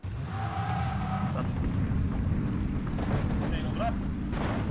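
An explosion in the video game Battlegrounds rumbles as a deep, sustained boom over the whole stretch, with players talking over the roar.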